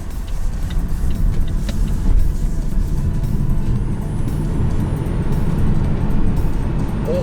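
LEVC electric campervan pulling hard out of a junction, a steady close road and motor rumble with broadband wind and tyre noise, building slightly and holding loud throughout with no talk.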